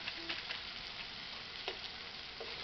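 Masala of cumin paste and Kashmiri chili powder sizzles steadily in hot oil for a lote fish curry, a soft, continuous frying hiss with faint stirring scrapes and no talk.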